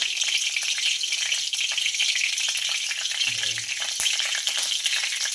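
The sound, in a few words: mustard seeds sizzling in hot oil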